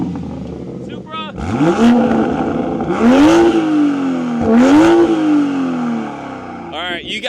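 A Toyota Supra fitted with a new exhaust revs hard in two big sweeping pulls, the engine note climbing and falling each time, loud and close, with a voice briefly heard at the start and end.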